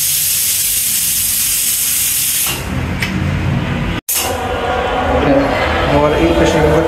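A home-kitchen pressure cooker releases steam in a loud, close, continuous hiss that grows fuller midway, breaks off for an instant and then resumes.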